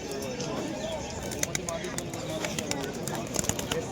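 Pigeons cooing amid the bustle of the Beldanga pigeon market, with soft low coos and bird calls over steady crowd chatter and scattered clicks and knocks.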